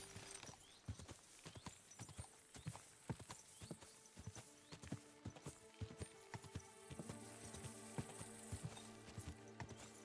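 Hooves clip-clop in a steady walking rhythm, a horse in the game Kingdom Come: Deliverance II moving at an even pace, fairly close and clear throughout.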